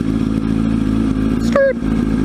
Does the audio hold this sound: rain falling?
no